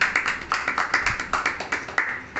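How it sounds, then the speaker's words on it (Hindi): An audience at an Independence Day business gathering claps in quick, roughly even rhythmic bursts, each clap distinct and moderately close, sustained for a couple of seconds. "एक बार जबरदस्त ताली बनता है अगेन।"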